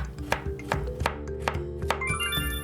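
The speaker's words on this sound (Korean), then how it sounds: "먼저 마늘은 편으로 썰어주세요" Garlic cloves sliced into thin pieces with a knife on a cutting board, about seven crisp, evenly spaced taps in quick succession, close and clear with no voices.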